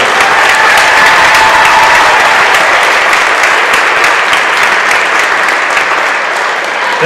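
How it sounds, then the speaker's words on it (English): Sustained audience applause fills a gym at a high school volleyball triangular, steady and dense from start to finish, tapering slightly at the end with no talk over it. "Let's give them a round of applause."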